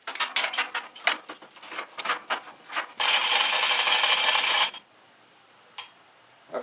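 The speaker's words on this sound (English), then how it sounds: "I'm going to use the chain falls to lift up the lawnmower." Chain falls lifting a lawn mower by its axles: a run of rapid metallic ratcheting clicks and rattling chain, then a dense continuous burst of chain links running through, stopping abruptly into near silence with a stray clink.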